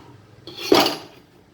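A metal tin of cake batter is set down inside a cooking pot, giving one short scraping clatter of metal on metal that swells and fades within about a second, alone in a quiet kitchen.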